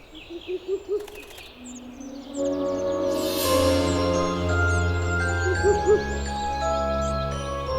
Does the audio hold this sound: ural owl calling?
yes